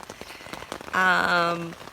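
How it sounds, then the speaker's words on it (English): Steady rain falls on a campsite on a solo autumn canoe trip in Killarney, a soft continuous patter, with a brief louder tonal call rising midway and fading before the end. "It's raining."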